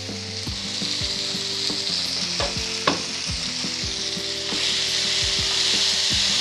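Vegetables for mix veg dalia sizzle and fry steadily in a hot pan, close and continuous, with repeated knocks and scrapes of a spoon stirring them.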